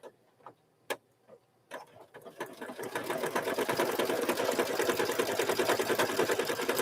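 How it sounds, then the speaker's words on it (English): Sewing machine triple stitching a mug rug: a few scattered clicks and taps, then the motor starts and settles into a fast, even, rattling run of stitches, close and moderately loud. "So now it's going to stitch again, just to triple stitch that on there."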